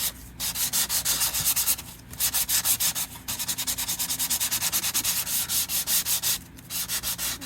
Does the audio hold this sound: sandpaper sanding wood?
yes